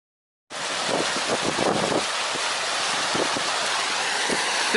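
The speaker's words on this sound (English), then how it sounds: "Second day of sluicing rain." Heavy, steady downpour of rain drums across the microphone on a mountain river walk during a coast-to-coast trek, a dense continuous hiss with gusty buffeting and no voices.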